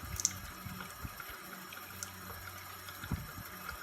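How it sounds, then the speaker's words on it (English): A syringe has its plunger drawn while held in a running tap stream for rinsing after a fountain pen ink cartridge refill, giving a steady, faint, close splashing of water with a few brief louder spurts. "I just put it in a stream of water, and pull the plunger."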